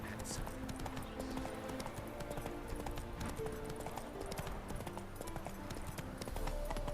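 Roach, the horse in The Witcher 3 game, gallops steadily with rhythmic hoof clip-clops over a continuous game soundscape, under intermittent talk.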